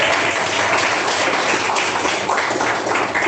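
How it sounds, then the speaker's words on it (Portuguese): A church congregation claps in praise to God, dense loud continuous applause filling the room without a break, close and unbroken for the whole stretch. "palmas de glória a Deus"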